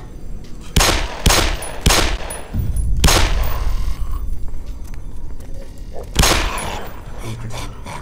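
Gunfire in the Black Mesa video game: a string of loud, sharp shots ringing out at irregular intervals, with a few quick bursts close together early on and another shot near the end, over a steady game background.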